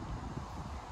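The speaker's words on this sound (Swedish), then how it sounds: "Och nu blåser det." Wind blows steadily across an open campsite beside a renovated caravan, a continuous low rushing buffet on the microphone with no voices.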